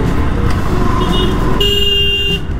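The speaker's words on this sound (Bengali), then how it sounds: "মারাত্মক জ্যাম রাস্তাটা।" Vehicle horns blare at a jammed road junction, Pathanpur, heard from a motorbike. Loud, close honks layer over constant engine and traffic rumble, with one sustained tone giving way to another.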